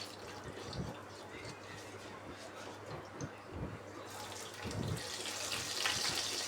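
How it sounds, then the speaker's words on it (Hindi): Cumin seeds crackle and sizzle in hot oil, a steady dense frying hiss with scattered pops that grows brighter and louder toward the end, and no one speaks. "2 टीस्पून ज़ीरा इसमें ऐड करनी है, क्रैकल करें।"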